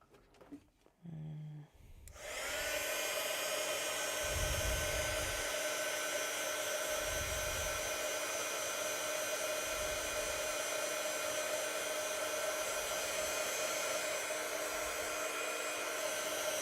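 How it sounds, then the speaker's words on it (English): A handheld heat tool blows hot air to dry a watercolor flower painting. After a brief quiet start it switches on and then holds a loud, steady, close whoosh to the end. "And now I'm gonna blast it to the heat tool"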